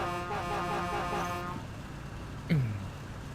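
A truck horn in the video game Spintires: MudRunner blares steadily for over a second, then cuts off, followed by engine rumble and a brief thudding knock.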